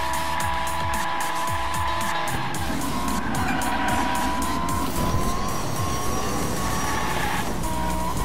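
Toy-style race cars tearing around a track in Hot Wheels Unleashed, a steady whining engine drone with rising and falling pitch, squealing tires and skids, loud and continuous without pause.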